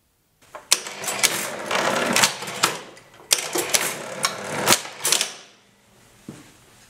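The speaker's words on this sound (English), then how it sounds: "An electrical motor brings the gears in motion." Electric motor driving the gears of an Imperial double-keyboard typewriter, its carriage shifting between keyboards: close mechanical whirring in bursts, punctuated by sharp clacks, then winding down to a faint hum.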